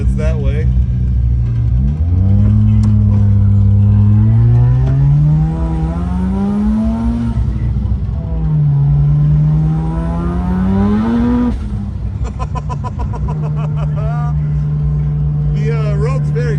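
A Mazda RX-7 with a rotary engine drives on a cold road, its engine note rising and falling smoothly through several revs and gear changes, loud and close inside the car, with voices talking over it.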